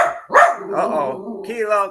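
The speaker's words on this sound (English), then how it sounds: "Sorry about the barking." A dog barks and yelps nearby while a person speaks briefly over it.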